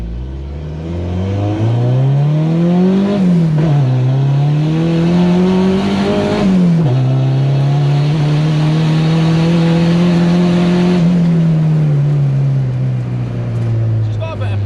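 A small turbocharged car accelerating hard, its engine note climbing through the gears with a clear shift dip, loud and continuous from inside the cabin.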